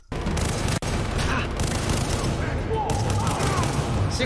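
Gunfire in the video game Far Cry 3: a sustained barrage of rapid automatic shots and booms, loud and dense, with a brief gap early on.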